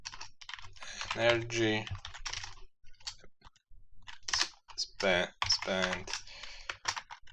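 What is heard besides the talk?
computer keyboard typing code in Unity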